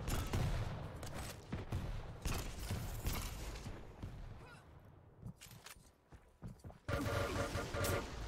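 Explosive weapon fire and blasts in a competitive Quake match, dense and loud through most of the stretch, thinning briefly before a renewed burst, with a voice commenting underneath.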